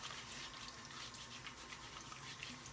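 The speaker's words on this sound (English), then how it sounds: "I'm going to have to add a little bit of water to that." A little water running from a tap into a shaving bowl holding shaving soap, a faint, steady hiss of flowing water throughout with no talk.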